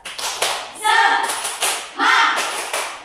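A classroom group claps in a rhythmic 'tepuk semangat' chant, sharp clustered bursts of hand claps alternating with shouted group voices, close and loud in a lively, repeating pattern.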